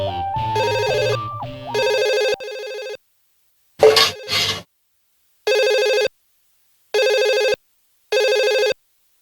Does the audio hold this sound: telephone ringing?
yes